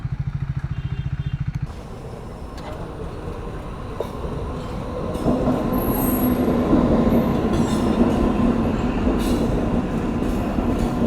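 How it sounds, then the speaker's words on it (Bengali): A train rolls across a railway level crossing beside a national highway, its wheels rumbling steadily and close, with a rhythmic clatter at the start and a rising metallic squeal and hum as the cars pass. "এই যে আরও একটা ট্রেন গেল"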